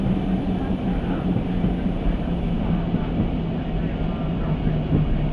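A diesel railcar in the game Diesel Railcar Simulator, slowing down, gives off a steady low rumble and drone of its engine and running gear, continuous and even throughout.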